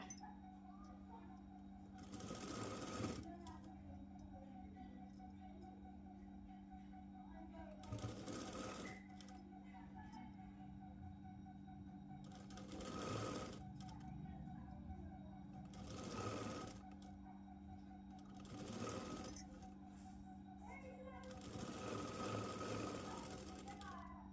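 A sewing machine stitches a Punjabi dress in short bursts of rapid mechanical whirring, about six separate runs with pauses between them, over a quiet steady hum, and a voice talks faintly in places.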